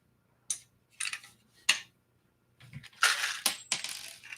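A hand rivet gun setting rivets while building an elevator, with several short sharp crunching snaps spaced apart, then a denser burst of clicking and crunching near the end.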